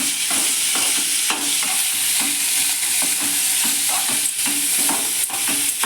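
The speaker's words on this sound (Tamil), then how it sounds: "இது எண்ணெயில் போட்டு லைட்டாக ஒரு வதக்கி எடுத்துட்டு மாவில் கலந்துக்கலாம்." Chopped tomato, beans and carrot sizzle steadily in hot oil in a pan, with frequent stirring scrapes and clatters for a rava dosa batter, continuous and close with no talking.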